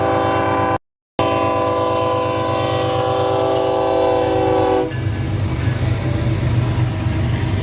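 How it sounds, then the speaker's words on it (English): A freight train in Grants sounds a long, loud, sustained horn chord with one brief dropout, then passes as a rumbling, clattering roll of wagons near by, with no talking. "So these freight trains are few and far between when we've been coming across all the states"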